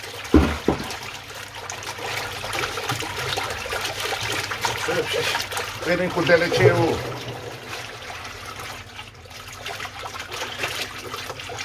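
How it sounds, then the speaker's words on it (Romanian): A water pump runs steadily as buckets fill with water, a continuous trickling and splashing flow with a brief loud knock near the start, while a person speaks briefly over it. "Deja pompa nu mai este așa gălăgioasă, că crește volumul."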